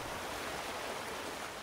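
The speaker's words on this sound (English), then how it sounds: "not sure why I'm getting all that water noise when I'm nowhere near any water" Steady rushing water noise in the Farming Simulator 19 Riverview map plays even though no water is nearby. It is a continuous broadband wash, fairly quiet and even, with no voices over it.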